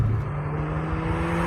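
A Peugeot 206 GTI engine drones steadily from inside the cabin while driving, a close, even hum with a low tonal note and no talking.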